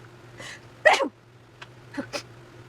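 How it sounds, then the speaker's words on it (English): A single person's sneeze bursts out loudly, preceded by a sharp intake of breath and followed by a couple of quieter breathy sounds. "Oh, hold on, I'm going to sneeze."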